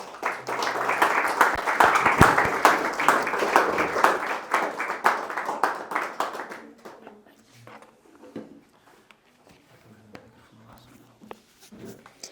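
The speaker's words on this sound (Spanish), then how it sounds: "¿Será que le puedes dar un aplauso fuerte a Dios?" A church congregation claps loudly and steadily for several seconds during a sermon service, then the applause fades to scattered claps and quiet murmuring.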